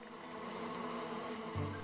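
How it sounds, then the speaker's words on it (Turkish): Cartoon bees buzz in a steady, bright drone that fills the whole moment, with a low hum joining near the end. "Arılar burada."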